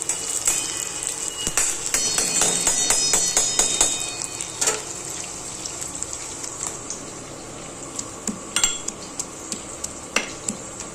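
Onion roasting in a pan for misal, a steady sizzle with spoon scrapes and metallic clinks on cookware, busy early and thinning into sparse taps.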